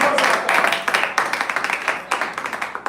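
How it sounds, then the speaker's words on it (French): A church congregation claps together in dense, steady waves of handclaps, with some voices mixed in throughout. "On va applaudir le Seigneur."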